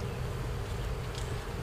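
Bees from a hive being removed in November swarm in a steady, dense buzz that fills the whole short moment, close and continuous with no talking.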